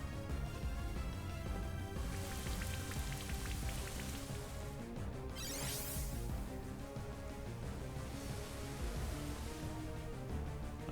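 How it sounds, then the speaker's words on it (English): Game rain from the Pokémon move Rain Dance falls in a steady, dense patter of drops that stays constant throughout, quiet and unbroken, with no voices over it. "so I'm going to Rain Dance."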